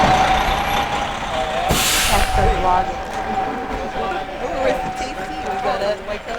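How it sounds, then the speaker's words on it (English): A tour bus pulls in close by with a loud engine rumble, a sharp hissing burst of air brakes, and a steady tonal whine, while people talk nearby. "Tour bus coming in hot."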